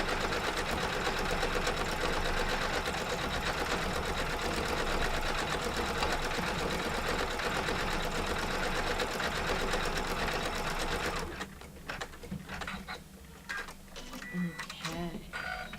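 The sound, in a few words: embroidery machine stitching a dense design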